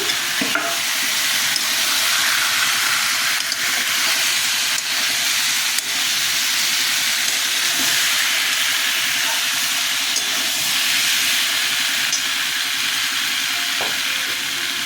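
Potatoes dropped into a hot pan of oil for a vegetarian gathi kochu curry sizzle and hiss steadily, a loud continuous frying sound with faint stirring clinks and no talking.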